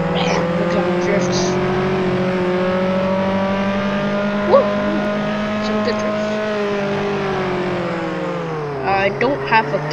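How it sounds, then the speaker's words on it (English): A car drifting in a video game, heard as a sustained, loud engine whine held at a steady pitch before dipping toward the end, with a few short squealing chirps near the close. "Look at him drift."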